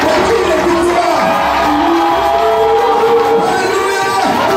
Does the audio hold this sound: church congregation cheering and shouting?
yes